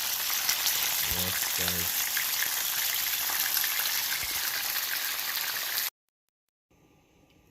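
Loud, steady sizzling of fish frying in hot oil for Jamaican escovitch fish fills the clip, with a brief voice speaking over it before the sound cuts off.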